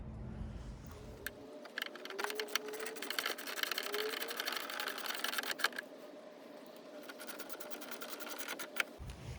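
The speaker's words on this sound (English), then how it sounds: "put your Torx screws back on" A power driver runs Torx screws back in while a Chevy Equinox high-mount brake light is refitted, giving a rapid, buzzing rattle of clicks in two close, quiet bursts with a short pause between.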